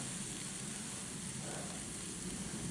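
Breakfast frying in a pan outdoors near a trailer, a steady, dense crackling sizzle that stays level and close throughout, with no voices.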